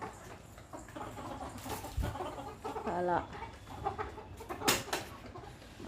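Chickens clucking outside a house among cows and trees, scattered soft clucks and short calls at a moderate distance with faint background noise and a brief word spoken.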